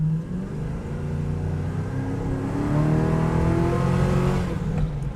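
A 1970 Chevrolet Camaro restomod accelerates hard, its engine roaring and rising in pitch over several seconds as the tires spin and squeal, close and loud.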